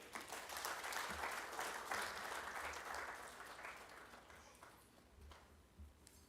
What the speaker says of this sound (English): Please give a hand clap to Phil.